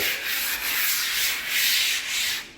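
Steady abrasive scratching of a power sander on wood in rhythmic back-and-forth strokes, close and fairly loud, with no voices.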